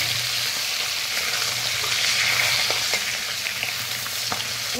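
Fish sizzling lightly in hot oil in a pan for a thin mango-and-fish sour curry, a steady close frying hiss with faint stirring clicks throughout.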